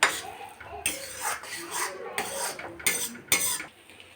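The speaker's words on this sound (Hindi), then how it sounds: "खसखस मेरी भुन रही है अच्छे से।" Poppy seeds roast in ghee in a pan, stirred with a utensil that gives irregular scrapes and clinks against the metal, with quiet sizzling between the strokes.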